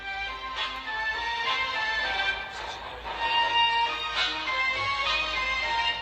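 A film theme melody with the opening notes cut and the key raised three semitones, a continuous orchestral phrase at steady volume with no voices.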